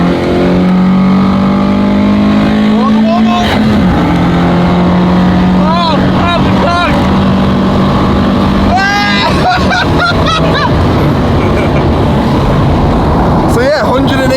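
A JDM import car's engine revs hard and climbs in pitch, with a steady loud drone and several rising sweeps as the throttle is blipped, and voices talk over it.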